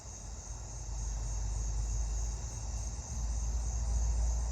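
A black-horned or four-spotted tree cricket keeps up a faint, continuous trill from a greater distance at night, underlaid by a low steady rumble and no talking.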